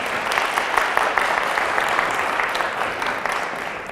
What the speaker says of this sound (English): Another round of applause for our Lynn Gordon.